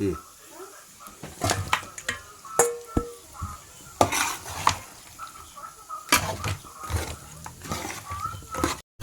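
Mutton being stirred into thick biryani masala in a pot, with irregular scrapes and clanks of a ladle against metal, close by, while a voice talks between the strokes.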